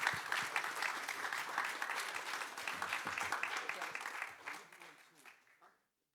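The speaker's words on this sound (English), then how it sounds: "A big round of applause for Iko, please." An audience at a livestreamed AsiaBerlin 2022 event applauds in a dense, steady wave for several seconds, with some voices mixed in, before the clapping tapers off and fades to silence.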